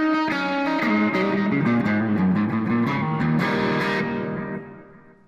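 Electric guitar with echo and a subtle tremolo plays a melodic run of picked notes, loud and close, with the repeats trailing off into a fading decay at the end.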